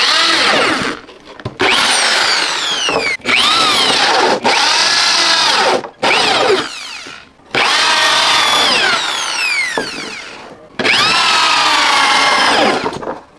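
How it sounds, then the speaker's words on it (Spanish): A power drill bores holes into plastic bottles in repeated loud bursts of whining, rising-pitch spinning, each lasting one to three seconds with short gaps between, close up and with no talk. "Perforamos el primer agujero."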